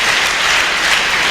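A church congregation applauding after a Bible reading, loud, dense clapping that fills the whole moment without pause.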